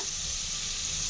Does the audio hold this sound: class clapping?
no